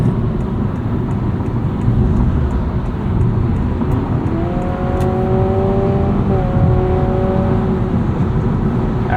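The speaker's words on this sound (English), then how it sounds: "There's also a little bit more piped-in engine noise in sport mode." Synthetic engine sound piped into the cabin of a 2025 Honda Civic Hybrid sedan accelerating in sport mode while merging onto a highway, a steady loud drone with rising tonal whine over road rumble.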